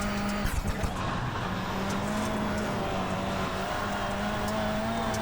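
Onboard a rallycross car on the Bark River track in a NASA Rallycross Lites race, with a steady loud engine drone, gravel and tire noise, and a brief clatter near the start.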